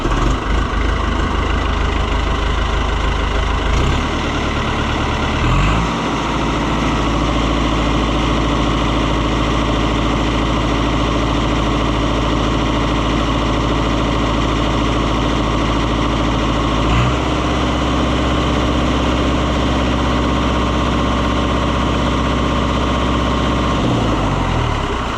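Diesel engine of an Oliver 1365 tractor (Fiat 640) idling, a loud steady low rumble that runs the whole time with a few slight shifts in pitch.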